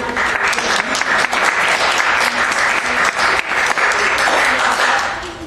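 Dense, sustained applause from a crowd of attendees at a state medical marijuana hearing, loud and steady for several seconds before tapering slightly at the end.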